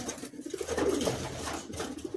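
Madrasi high-flying pigeons in Kolkata coo softly and steadily at close range, their low murmuring calls fairly faint and uninterrupted by any voices.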